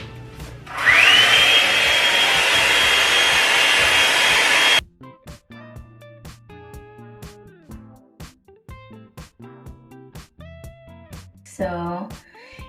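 A hair dryer runs loud and close for about four seconds while naturally curly hair is blow-dried, then cuts off and someone talks over the quieter remainder.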